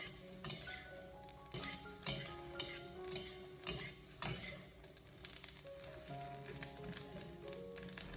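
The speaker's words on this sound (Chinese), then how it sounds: "把辣椒给它慢慢的煸炒一下，把辣椒里面的水分给它煸炒出来" Green chili peppers are stir-fried over medium-low heat in a dry preheated wok, with intermittent metallic clinks and scrapes of a spatula against the pan over a soft, faint sizzle.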